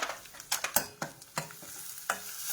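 A hot tempering sizzles in a pan as asafoetida and carrot go in, with sharp, close bursts of crackling and a few quick stirring scrapes over a low frying hiss.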